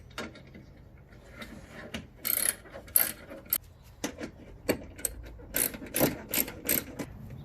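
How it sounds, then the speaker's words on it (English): A wrench ratchets on a screw while a MR2 Spyder headlight is being removed, giving close, repeated clicking bursts in short irregular runs, with quieter mechanical handling between them. "So I got the wrench in here"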